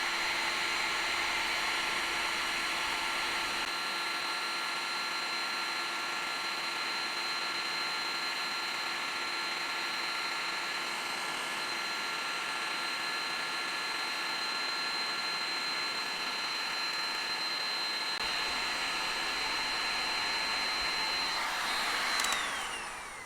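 An Ingco heat gun runs steadily, a loud, even whooshing roar of strong airflow with a faint whine that holds for over twenty seconds before cutting off at the end, no talking.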